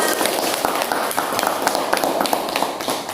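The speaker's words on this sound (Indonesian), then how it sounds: "Tepuk tangan untuk teman yang sudah mendengar." Classmates in a classroom clap for a fellow student, a dense, steady patter of many hands that stays close and even throughout.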